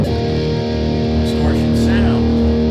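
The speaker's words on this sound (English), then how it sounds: "I'll demonstrate what I mean by that by kicking in some distortion. So we've got a big, robust distortion" An electric guitar played through a big, robust distortion and a Boss volume pedal rings out with thick sustained chords, loud and close, with a voice talking over it.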